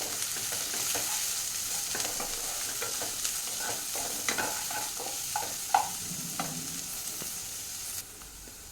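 Vegetables and beans are stirred in a hot pan for several seconds, a steady sizzle broken by repeated scraping and clattering strokes of a spatula, with no talking.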